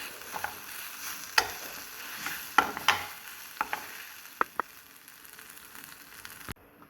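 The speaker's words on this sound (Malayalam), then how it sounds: "ഇത് നമുക്ക് നന്നായിട്ടൊന്ന് മിക്സ് ചെയ്തെടുക്കാം" Beef is stirred with turmeric, chilli, coriander and garam masala powders in a pan: soft, quiet sizzling under a series of sharp spoon clinks and scrapes against the metal, spaced irregularly, with no talk.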